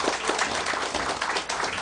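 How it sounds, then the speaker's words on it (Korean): A church congregation claps warmly for its members in a dense, continuous wash of applause that stays fairly loud and even from start to finish, with no voices clearly standing out. "한번 뜨거운 박수 보냅시다."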